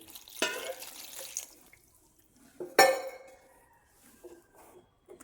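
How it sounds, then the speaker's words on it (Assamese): Water splashes into a pan in two short pours, the second louder and brighter, with light clinks and quiet pauses between. "এতিয়া এইখিনিত ভিজখোৱাকৈ পানী দিম, বহুত পানী নিদিওঁ।"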